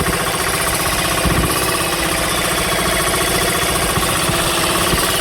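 A fishing boat engine runs loud and close with a rapid, steady chugging knock that never changes pace. No voices are heard.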